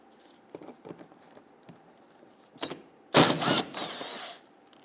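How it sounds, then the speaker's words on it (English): Wrench work loosening and removing 10mm bolts along the front bumper of an Infiniti G37, heard as scattered faint clicks and rattles, then a louder burst of ratcheting and scraping near the end, with no speech. "there's going to be a series of 10mm bolts going across. Let's go ahead and loosen and remove these."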